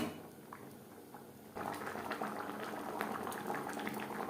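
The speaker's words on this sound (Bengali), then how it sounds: "গ্রেভির সাথে মাছ ও মাছের মাথা তিন চার মিনিট রান্না করে নেব" Rohu fish and fish head simmering in gravy, a close bubbling that grows fuller and louder partway through and keeps up a steady wet boil, with no talking.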